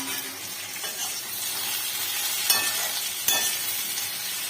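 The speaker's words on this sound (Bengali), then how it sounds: "কাঁকরোলটা ভাজা বসিয়ে দিয়েছি।" Sliced teasel gourd (kakrol) fries in a pan with a continuous sizzle, broken by two sharp clinks of a utensil stirring against the pan, close and without talk.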